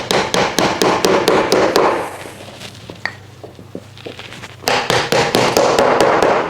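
Uprights of a wooden tiered plant stand are hammered into place with quick, sharp taps in rapid bursts, close and loud, pausing for a couple of seconds of quieter handling noise before another burst of tapping.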